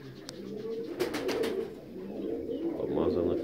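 A white Mozdok pigeon coos in soft, low, repeated calls, close by and moderately faint over a steady murmur of background noise.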